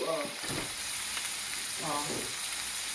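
Turkey sausage fries in a little olive oil in a pan with a steady, fairly loud hiss and sizzle that runs the whole time, broken by a few brief tonal sounds.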